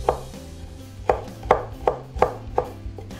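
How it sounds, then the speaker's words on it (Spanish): Tomato chopped with a knife on a board, six crisp close knocks at a slightly uneven, unhurried pace, with no voices over them. "Ahora vamos a picar el jitomate, lo vamos a hacer de esta forma"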